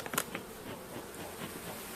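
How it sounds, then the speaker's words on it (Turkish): Caucasian honey bees buzzing at a hive just out of winter, a dense, steady hum of many insects with a few brief louder passes close by. "Bakın Kafkas arısına bakın."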